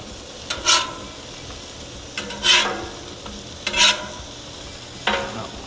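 Leftover burger patties reheat on a Blackstone griddle, a low steady sizzle broken by four sharp scraping stirs of a spatula spaced about every one and a half seconds, close and clear with no talking.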